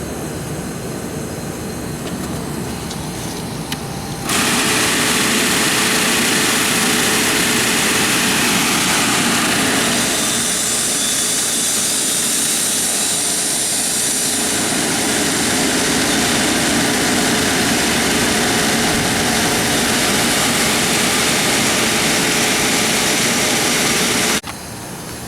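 Refrigerant being reclaimed from an air conditioning system into a tank, a loud, steady mechanical roar and hiss that starts abruptly, runs unbroken for about twenty seconds, then cuts off, no talk.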